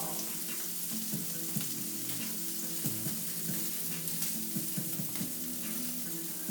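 Shrimp and other seafood searing in a hot pan, a constant close sizzle with faint metallic scrapes and shifting bubbling underneath.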